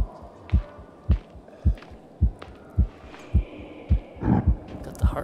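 A heartbeat in the video game Medusa's Labyrinth thumps in a steady, deep rhythm, about nine low double-beat pulses close and prominent over a dark ambient hum.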